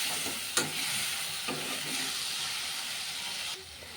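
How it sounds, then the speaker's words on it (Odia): Masala sautéing in hot oil with a little water for an egg curry, a steady close sizzle and hiss with a few scraping stir strokes and a sharp clink. "ଟିକେ ପାଣି ଦେଇକି ଆମେ ତାକୁ ମସଲାକୁ ଭଲ ଭାବରେ କଷିବା"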